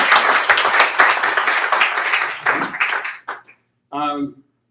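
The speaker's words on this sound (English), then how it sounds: "I would like to start by giving Tony a round of applause for doing that" A poetry-reading audience in a pub gives a round of applause, dense clapping filling the room for about three seconds before fading, followed by a brief pause and a short burst of speech.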